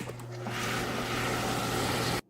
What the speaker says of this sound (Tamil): இப்போ இட்லி பேட்டர் அரைக்கிற மாதிரி நல்லா நைஸாக அரைக்க போகிறோம்